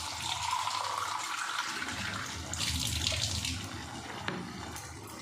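Water poured into a pot of carrots and potatoes on a gas stove, a continuous rushing splash that swells midway and keeps on, close and fairly loud.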